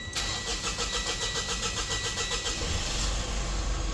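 A Mitsubishi Montero Gen 3 with the 4N15 diesel engine, at 80k mileage and low on power, cranks with a rapid rhythmic churn for a couple of seconds, then catches and settles into a steady, close idle.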